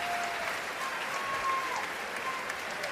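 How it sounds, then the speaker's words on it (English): Steady applause and crowd noise fill a gymnasium at Gregory Gym during an NCAA women's volleyball postseason match between Texas and SMU, broad and sustained throughout, with faint whistle-like tones above. "they both seem to be okay and get a hand from the crowd here at Gregory Gym"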